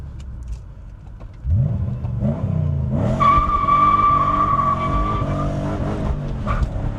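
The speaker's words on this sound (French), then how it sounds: "on va profiter un petit peu de ce magnifique son moteur" A car engine idles, then revs up sharply and holds a loud, rising whine before easing off, close to the listener.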